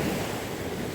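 Sea surf washing onto a clean white-sand beach at Shiroda in the Konkan region, a steady loud roar of breaking waves with wind noise on the microphone, no voices.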